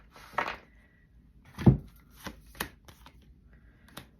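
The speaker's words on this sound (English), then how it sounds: "Usually when I'm shuffling, I clean up all the cards" Tarot or animal cards being shuffled close by, quiet handling with a few soft riffles and taps spread across the moment.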